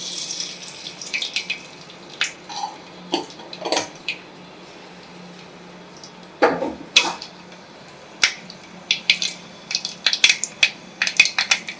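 Mustard seeds crackling in a hot pan for sirukilangu kootu: scattered sharp pops and snaps in irregular bursts that grow busier toward the end, close over a quiet background.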